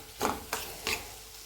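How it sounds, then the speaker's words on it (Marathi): Crushed peas frying with onion in oil in a pan, stirred in three scraping strokes over a soft, steady sizzle. "हे 3 ते 4 मिनिट व्यवस्थित आपल्याला तेलामध्ये भाजून घ्यायचे आहेत कांद्याबरोबर।"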